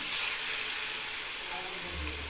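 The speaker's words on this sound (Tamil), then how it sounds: "நான் இதில் ஒவ்வொரு மீனையாக எடுத்து இப்படி போட்டு எடுத்துக்கலாம் பாருங்கள்" Vanjaram fish pieces frying in hot oil, a steady broadband sizzle that holds evenly throughout at close range, with a low rumble rising near the end.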